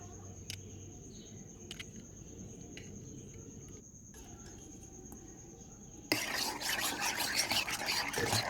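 Eggs are beaten hard in a bowl for egg paniyaram, a fast rhythmic whisking that bursts in near the end over a constant background of chirping crickets.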